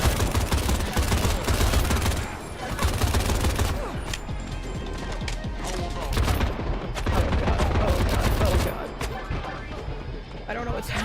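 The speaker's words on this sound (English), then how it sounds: "He's fucking shooting already." Rapid bursts of gunfire in a shooter video game, dense and continuous with fusillade-like volleys throughout, while a voice talks over the shooting.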